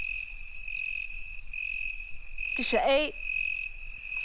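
A cricket chirps in a continuous, high, shrill trill that holds steady throughout. A voice speaks briefly over it near the middle.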